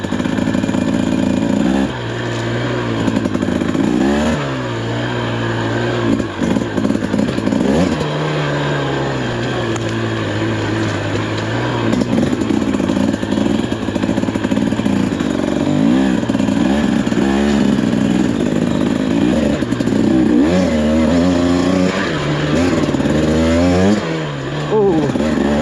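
A brand-new 2024 Husqvarna TE300 two-stroke dirt bike ridden on trails at Glass House Mountains, its engine revving and rising and falling in pitch as it climbs and slows in first gear, loud and close throughout.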